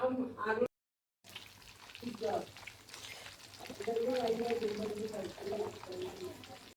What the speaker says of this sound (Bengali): শেষ রান্না এখন মাছ রান্না করা হবে